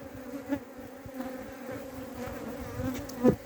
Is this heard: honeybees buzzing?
yes